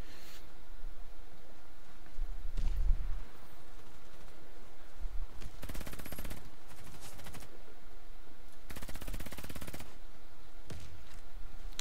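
Gunfire in the online shooter Warface, several short automatic bursts and single shots of moderate loudness over a steady game background, no talk.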